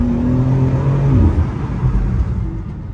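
A 2023 BMW M2 G87 accelerates hard inside a tunnel, its loud engine note climbing and then dropping at a gear change into a deep, echoing rumble, close and continuous without talk.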